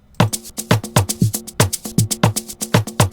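A percussion pattern from a 3 step beat made in FL Studio plays alone, a busy, loud loop of punchy hits with a pitched low body and crisp bright transients in a bouncy rhythm.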